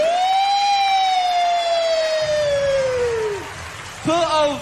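A voice imitates a police siren with a drawn-out rising and falling wail, loud and close. It breaks off briefly and then starts again, with a faint hiss underneath.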